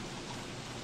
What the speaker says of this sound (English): Oh, it's because it's raining.